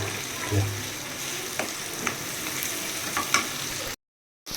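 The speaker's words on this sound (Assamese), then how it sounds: "গলি যোৱালৈকে ভাজি থাকিম।" Steady sizzling of tomato and onion frying in a pan, with a few scraping stirs, continuous and close, ending in a short silence.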